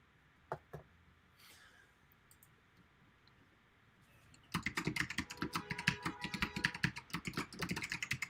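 A few isolated clicks come first, then steady, fast typing on a computer keyboard takes over, with dense, close keystrokes continuing to the end.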